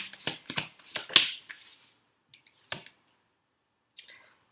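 Several quick rustling bursts of shuffled tarot cards, then a pause and a few softer, isolated riffles near the end.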